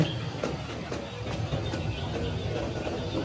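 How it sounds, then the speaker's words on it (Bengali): A train rolls past beside a road, giving a short, steady rumble with faint rhythmic clatter that blends into the surrounding street ambience. "ট্রেন"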